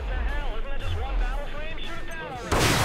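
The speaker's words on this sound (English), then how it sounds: "Thank god they gave me this particle cannon. It hits really hard." Particle cannon firing in the Project Nimbus video game: heavy booming shots, with a loud blast bursting in at the end, under excited talk from a player.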